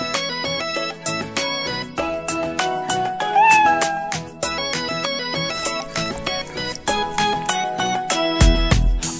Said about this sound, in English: And on his farm he had a cat, E-I-E-I-O. With a meow meow here and a meow meow there.